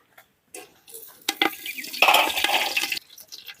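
Mustard seeds tipped into hot groundnut oil crackle and sizzle in a close, uneven burst with a few clinks of a utensil against the pan, building in the middle and then dying away.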